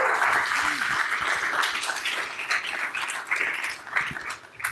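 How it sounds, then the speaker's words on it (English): Conference audience applauds students, a dense continuous wash of clapping from a crowd in a hall, fairly loud and sustained throughout, with a little voice mixed in. "let's give a big round of applause for the students and also Kwong"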